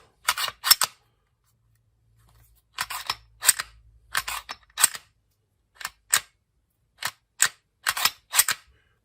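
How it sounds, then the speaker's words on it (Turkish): Sharp metallic clicks from a Canik TP9 SFT pistol being reassembled and function tested, with several quick paired and single snaps of the slide and trigger spread across the clip, close and crisp, with no talking. "fonksiyon testi yaptıktan sonra tetiği çekerek olayımızı bitiriyoruz"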